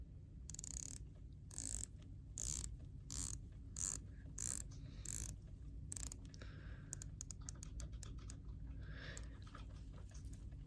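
An Omega Seamaster Planet Ocean dive watch bezel is turned in quick bursts of close, crisp ratcheting clicks, several short rotations followed by a faster run of clicks.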